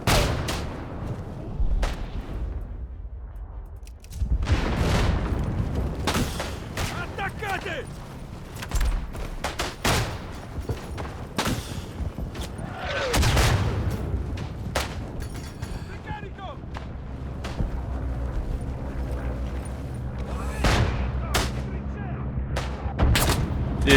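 Gunfire and booming artillery in the WWI video game Isonzo on a snowy mountain map, steady scattered shots and heavy thuds over a constant battlefield rumble, with someone talking throughout.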